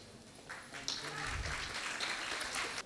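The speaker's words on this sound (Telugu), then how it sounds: "ఒకసారి అందరూ కూడా లేచి నిలబడి చప్పట్లు కొట్టండి దయచేసి" Audience at a TDP Christmas celebration clapping together, a dense, fairly soft burst of applause from a crowd at a distance, with some faint voices mixed in.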